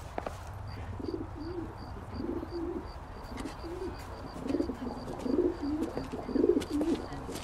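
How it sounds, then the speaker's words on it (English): Carrier pigeon cooing in the video game L.A. Noire, a soft repeated low coo heard close over a steady background hum, with a faint high electronic tone pulsing throughout. "Drunk and in command of a carrier pigeon."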